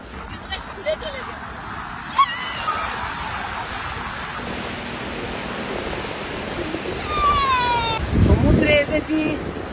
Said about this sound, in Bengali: এই যে সমুদ্র।